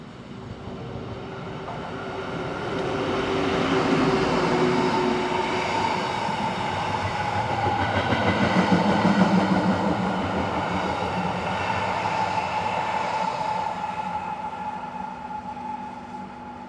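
A Swiss Rhaetian Railway train, number 620, climbs a 4.3% grade on the line from Landquart to Davos, a steady rumbling roll that swells as it draws near and passes, then eases off again, with no voices.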